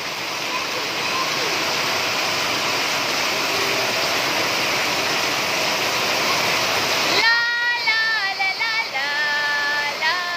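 Heavy monsoon rain pours down in a steady, loud rush of water that spills far across a floor, then continues with a more uneven splashing; voices are heard faintly.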